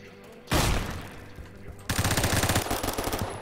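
Gunfire in the Phantom Forces shooter game: a loud single blast, then a rapid, steady burst of automatic fire close up, with no talking.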